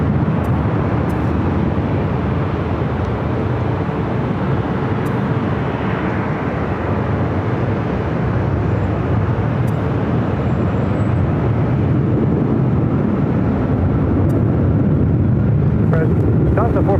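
A United Boeing 757-300 bound for Honolulu rolls for takeoff on runway 24 left at LAX, a loud sustained engine roar that stays broad and steady throughout, with faint clicks over it.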